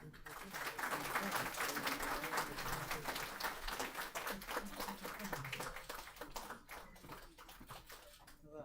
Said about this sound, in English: Can we have some applause, please?